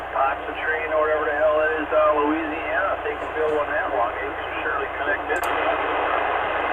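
CB radio skip transmission received on a VQ3 antenna, distant voices talking through hiss and static, band-limited and fading in and out, with a few faint clicks.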